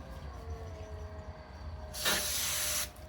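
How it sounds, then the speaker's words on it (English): A single strong burst of CRC aerosol brake cleaner sprays onto a rag for about a second, a loud close hiss over quiet background hum. "I'm just going to spray some CRC brake clean on a rag"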